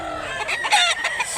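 A Sweater gamefowl rooster at a gamefowl sale in Mantalungon, Barili, Cebu, gives a short, close, loud crow with a raspy, wavering tone.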